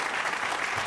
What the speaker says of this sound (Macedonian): Аплауз за Никола